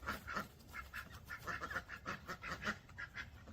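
Ducks quacking in a repeated, fairly even series of calls, moderately close and alone without talk, on a farm where ducks and dogs live together.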